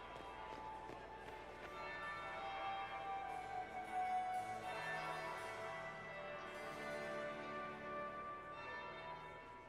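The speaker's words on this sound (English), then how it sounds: "That would be the second bell." Church bell tolling in the video game Dragon Age, a sustained bright ringing with long overlapping resonance that fills the scene at steady moderate loudness, with no talk over it.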